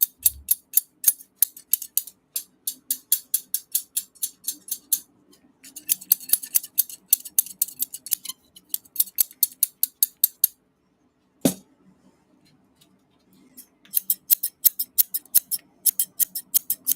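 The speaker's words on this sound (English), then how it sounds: "This is my favorite pair of scissors that I have." A favourite pair of fairly loose scissors snips repeatedly in quick, crisp bursts of closely spaced cuts, close up and alone, with short pauses between runs and one louder clack midway.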